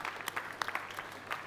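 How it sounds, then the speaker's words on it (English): An audience claps for the judges at a live startup event, a sustained patter of hand claps at moderate distance with a few sharper individual claps standing out. "Let's give a big applause to the judges one more time for their effort."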